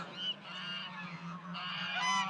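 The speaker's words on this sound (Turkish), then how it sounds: "Bakın komşunun kazları da şurada." Geese on a farm honking, with several overlapping nasal calls at moderate distance, continuous and fairly faint.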